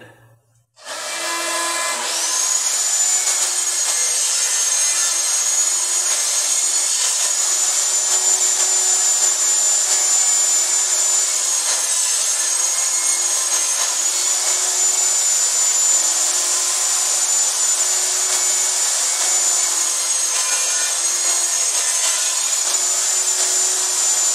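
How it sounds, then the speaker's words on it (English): A jointer runs steadily through pallet wood planks for about twenty-two seconds, a loud continuous whine with a bright tone. It rises abruptly at the start and stays fairly even throughout, with slight shifts as each plank passes. "So we're going to joint these on each side and use two 5-inch planks for the lid."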